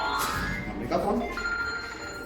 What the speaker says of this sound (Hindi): मम्मी का फोन।